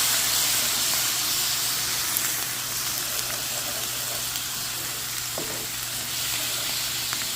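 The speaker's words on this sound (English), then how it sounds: "I'm going to add a cup of my Greek yogurt to my mix. I'm going to get that stirred in there." Greek yogurt being stirred into a spinach and mushroom Marsala lasagna mix, heard as a steady sizzling, wet hiss with a low constant hum underneath and no talking.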